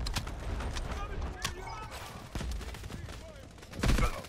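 Rapid gunfire crackles in sharp, scattered bursts during Delta Force: Hawk Ops combat, fairly quiet and mixed with a voice talking, ending with a heavier thump.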